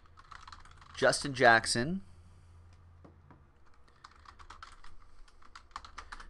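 Computer keyboard typing while logging football trading card hits, light scattered keystrokes in the second half, soft and close, after a brief spoken name near the start.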